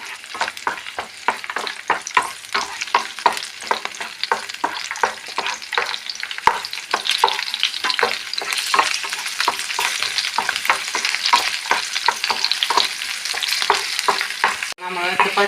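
Green chillies fry vigorously in a pan, a dense crackling sizzle packed with rapid spitting pops, loud and close, with a brief sharp scrape near the end.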